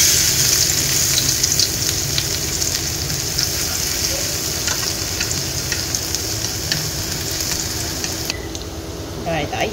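Garlic and lemongrass sizzle and fry in oil as a base for braised fish, a steady, close hiss with occasional stirring scrapes that fades slightly near the end.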